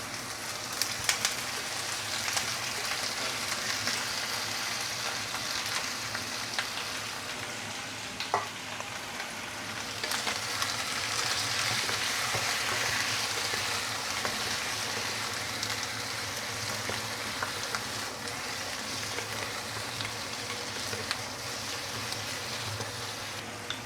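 Pork leg fries in very hot caramelized sugar for a braised pork dish, giving a constant, dense sizzle and crackle that stays close and loud with scattered sharper pops. No one speaks.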